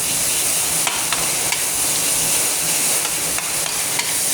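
Minced pork stir-frying in a hot pan for Thai basil pork, a loud continuous sizzle and hiss with faint scraping stirs of the spatula, heard up close with no voices.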